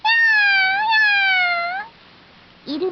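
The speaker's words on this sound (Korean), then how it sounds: "야옹, 야옹." A single long, tonal meow with a steady harmonic cry that bends slightly, followed by a pause and a brief second chirp-like call near the end.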